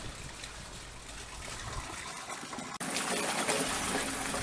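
A homemade vertical-axis windmill with four enlarged blades drives a rope pump lifting water from the bottom of a well, giving a steady close trickle and splash of flowing water that turns louder and fuller partway through, with no talking.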